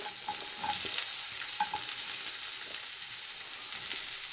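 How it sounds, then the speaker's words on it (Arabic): Chopped onions sizzle in a pan for a light zucchini dish, a steady close frying hiss with a few stirring scrapes and no voices. "أنزل الأول البصل."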